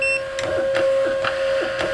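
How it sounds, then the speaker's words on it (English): A Rollo label printer runs off a Pirate Ship shipping label, giving close, steady mechanical pulses at roughly half-second intervals over a constant electronic whine, with no talking. "I need to go ahead and try to print it again, this label that I'm printing for pirate ship"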